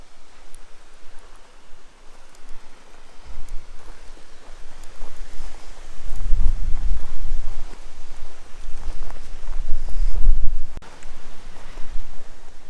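Wind moves through giant palm trees beside a desert spring trail near Shoshone, a low gusty rumble that swells noticeably midway and again near the end, with no voices.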